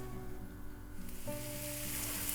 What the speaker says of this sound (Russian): Тыкву обжариваю, помешивая.